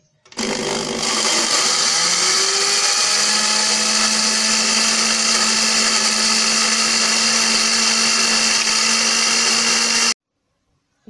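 An electric grinder grinds Kashmiri red chillies into a coarse powder, making a loud, steady, high whine. It starts abruptly, runs without a break for about nine seconds, then cuts off, with no voices.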